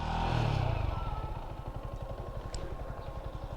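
A motorcycle being ridden, its engine running with a steady rapid pulsing thrum that settles from a louder start to a moderate, even level.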